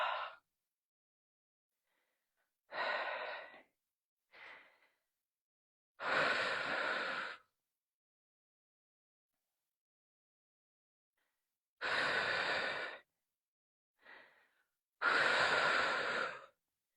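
Heavy breathing during a lunges workout, close and loud, with a series of separate forceful exhales and sharp gasps spaced unevenly between long stretches of silence.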